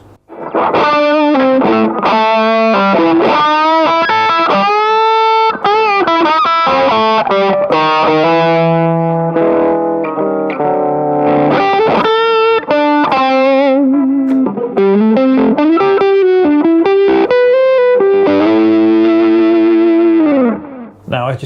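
Suhr Standard Pro electric guitar played through its bridge humbucker with heavy gain, loud distorted singing lead lines and sustained notes with chorus-like shimmer, played alone without talk.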